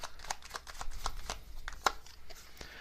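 A deck of tarot message cards is shuffled up close in quick riffling bursts, with soft papery flicks and a few sharper snaps.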